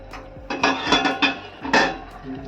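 Cooked clams stirred in a metal pot, a few clattering knocks and scrapes of shells and spoon against the pot, close and fairly loud, with no talking.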